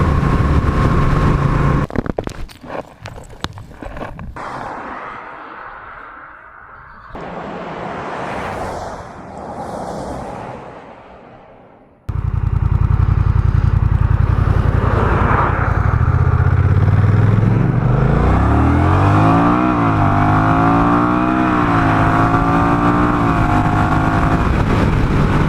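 Honda Rebel 1100 with a DCT dual clutch transmission in sport mode, first with scattered handling noises and a quieter idle, then a loud close engine pulling away and climbing through several gear shifts with stepped rising pitch.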